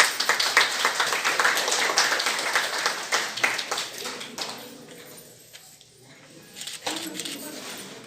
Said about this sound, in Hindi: ताली तो बजा दीजिए।